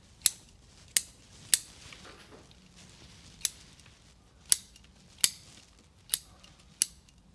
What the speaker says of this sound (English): let's trim it into a roughly dome shape or conical shape